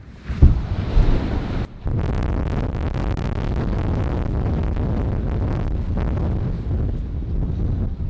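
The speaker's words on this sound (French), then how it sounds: "Il y a beaucoup de vent." Strong wind buffets the microphone outdoors on arrival in South Africa, a loud continuous roar with gusty surges and no speech.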